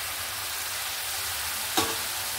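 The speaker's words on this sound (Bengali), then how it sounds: "ভালো করে মশলার সঙ্গে কষিয়ে নেব" Fried potatoes and fish roe are stirred into a spice paste in a pan, making a continuous close sizzle with one sharp scrape of the spoon near the end.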